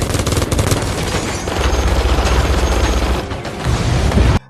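Dense burst of gunfire and booming impacts from an action scene in Fast and Furious 7, loud and continuous before cutting off abruptly.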